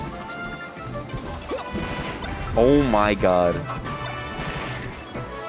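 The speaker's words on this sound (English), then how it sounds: "These F smashes are lethal." Forward smash attacks land with heavy crashing hits in Super Smash Bros. Melee during a Captain Falcon versus Fox tournament match, with rising and falling game effects and excited commentators talking over it.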